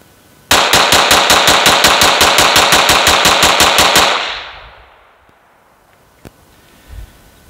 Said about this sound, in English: let's go ahead and do our mag dump as our final test and see if it can handle that faster fire